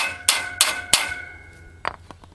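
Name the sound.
hammer tapping a bolt into a sickle bar mower knife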